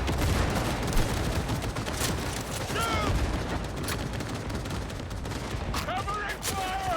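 Dense, continuous gunfire from the Cyberpunk 2077 video game, sustained bursts and volleys filling the whole stretch at loud, close range, with a shouted voice briefly cutting through.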